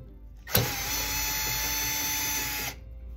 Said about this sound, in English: These are Phillips head. So we're going to spin those out.